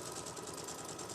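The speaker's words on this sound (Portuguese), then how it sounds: "Então, agora eu vou costurar." A sewing machine runs steadily while stitching a patchwork block, a soft, even mechanical whir with a fast rhythmic pulse, faint and continuous.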